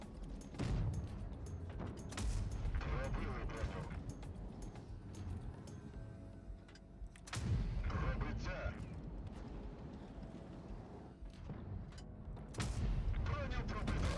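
Heavy tank cannon blasts boom out at intervals in World of Tanks Blitz, over loud, continuous game noise and rumble, with someone talking in Ukrainian through much of it.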